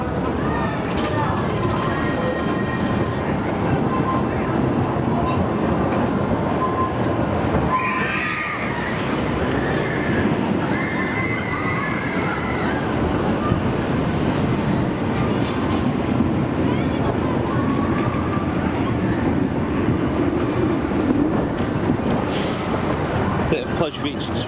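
The Pleasure Beach Express ride train at Blackpool Pleasure Beach rolls continuously along its track, a steady rumbling clatter heard from on board with scattered whistles and voices in the background.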